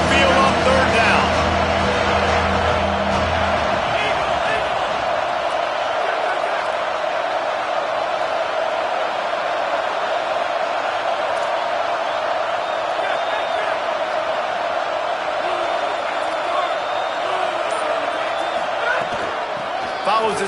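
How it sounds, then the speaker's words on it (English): Home crowd at a Texas A&M vs Texas Tech college football game roaring on third down, a loud, sustained stadium din with a deep rumble at the start, never letting up. "Here comes his home crowd as the defense tries to get off the field on 3rd down."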